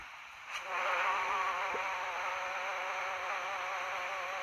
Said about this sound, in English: With a ship like the Californian, you have that horn.